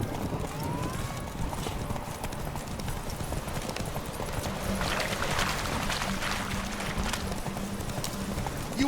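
The horse Roach gallops in The Witcher 3 video game, a fast, steady clip-clop of hooves running throughout at close range, with brief faint voices and ambient game sound underneath.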